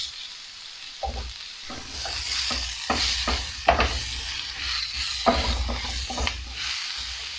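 Steak with mushrooms and peppers frying in a single pan, a steady close sizzle broken by repeated scraping stirs and clatters of the utensil against the pan; no talk.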